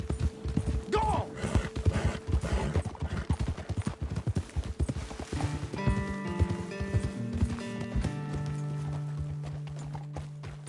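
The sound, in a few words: horses galloping in Red Dead Redemption 2 video game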